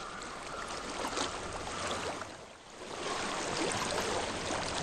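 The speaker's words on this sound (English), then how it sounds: "I hear water." Flowing water in the video game Hellblade: Senua's Sacrifice: steady rushing and babbling of a stream, continuous and fairly close, with a brief dip in level midway and no voices.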